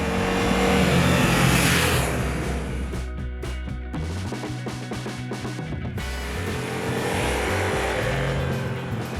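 A Ducati Multistrada V4 motorcycle in touring mode rides through winding turns on a road in Baja, Mexico, with a loud, steady engine drone and wind rush that dips and swells as the bike leans and accelerates.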